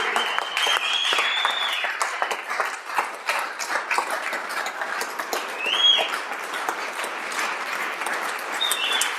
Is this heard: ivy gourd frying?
no